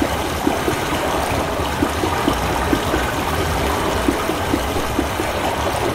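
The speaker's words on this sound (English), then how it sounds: "Getting water up here." Water rushes steadily in the Channelwood Age of the Myst video game, a continuous close stream with faint rhythmic trickling and no voices.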